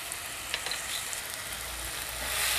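Chopped tomatoes with salt sizzle and fry in a pan for chicken kheema, giving a steady, bright hiss with small crackles and a slight swell toward the end.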